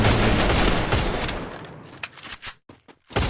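Dense gunfire and grenade blasts from a Free Fire battle royale esports match. A loud sustained volley gives way to scattered sharp shots and bursts with brief gaps.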